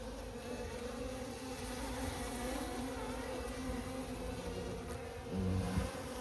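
Bees buzz continuously up close, a steady droning hum that swells slightly, with one louder buzz passing near the end.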